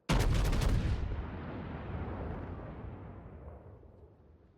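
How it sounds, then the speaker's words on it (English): Heavy naval artillery from a warship in the World of Warships video game: one loud, broad booming salvo that rolls into a long, slowly fading rumble. "Concentrate fire on the enemy warship."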